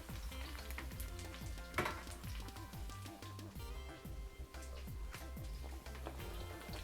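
Sesame oil sizzles in a pot with garlic, onion and ginger, a dense crackling fry under steady clinks and scrapes of stirring, with a faint voice in the background.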